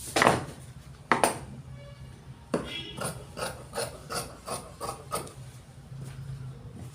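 Scissors cut through shirt fabric at close range, making a series of crisp snipping and rasping strokes, a few louder ones early and then a quicker, rhythmic run of cuts.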